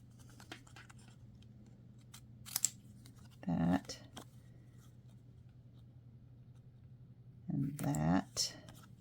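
Scissors snip card stock in a few short close cuts, with quiet scratches and rustles between them. A steady low hum sits underneath, and there is no talk.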